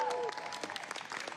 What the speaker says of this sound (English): Give a big round of applause for Mayor Adams right here.